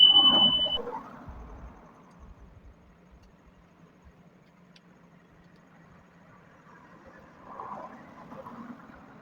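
A microwave oven running on high with water inside, after a repair for sparking, gives a low steady hum. A few faint clicks and beeps sound at the start, and a slight swell comes near the end.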